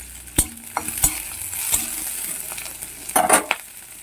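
Onions and chopped chili fry in oil in a kadai, a steady moderate sizzle broken by sharp scrapes and clinks of a spoon stirring against the pan.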